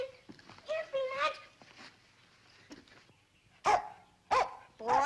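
A dog barks several times, short loud yaps spaced apart near the end, after a stretch where people talk.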